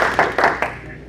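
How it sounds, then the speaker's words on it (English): A few sharp, close hand claps at a Rotary Club meeting, three or four quick, loud strikes in a brief burst that quickly fades. "Let's give them a big round of applause"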